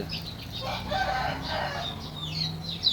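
Farm chickens being fed cluck steadily, with a rooster crowing partway through; several birds sound at once, fairly close, with no talking and a constant low background.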